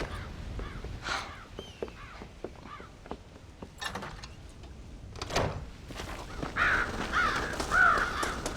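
Crows caw in a Red Dead Redemption farm setting, with several harsh calls scattered over a rustling ambient bed, moderately near and mixed with other game sounds.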